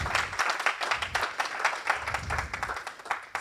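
An audience at a talk on gender bias in machine learning claps for a speaker, a short, moderately loud patter of applause that continues evenly without speech.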